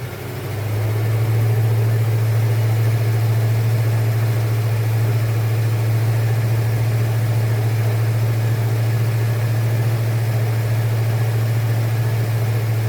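A Ford 302 V8 with newly replaced lifters and oil spilled over it holds a steady 1800 RPM, giving a constant, loud, low droning hum that stays even from start to finish with no talking.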